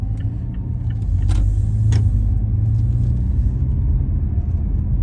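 Car driving at moderate speed through light midday traffic, a steady close engine and road rumble running throughout with a slight swell in the middle.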